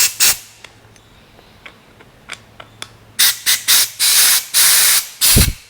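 Compressed air is blasted through a carburetor during cleaning: a few short hissing puffs, then a run of loud, longer bursts in quick succession, close by with quiet gaps between.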